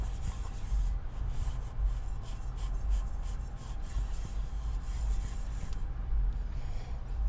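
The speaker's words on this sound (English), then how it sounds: "So this is the dirty towel I have, and I'm gonna wipe this down." A dirty towel rubbing over a rice cooker stained with coffee grounds, a continuous close scrubbing and swishing with quick rhythmic strokes and no talking.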